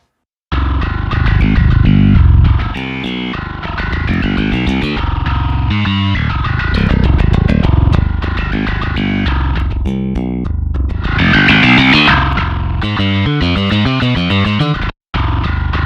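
A heavily distorted bass guitar through the Nuclear Bass amp plugin plays a loud, gritty riff with sustained growling notes and quick runs, cutting off briefly near the end before resuming.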